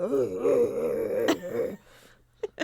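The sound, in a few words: voice imitating koala call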